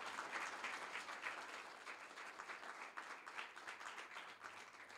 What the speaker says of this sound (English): If you could please turn around and give her a round of applause.